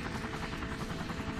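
A video-game helicopter from Emergency 3 drones with a steady rhythmic rotor chop, faint and even throughout with no talk over it.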